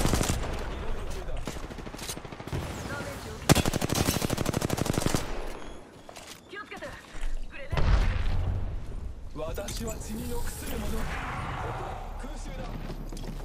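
Rapid automatic gunfire in Apex Legends: several loud, close bursts, including one long sustained volley, followed by scattered shots and impacts, with people talking throughout.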